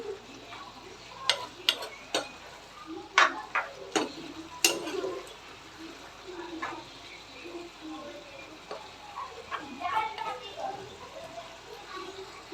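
Boiled taro stirred into lentils with prawns in a pot, close irregular scraping and tapping clicks from a spoon against the pan, heavier at first and then lighter, with a person talking throughout.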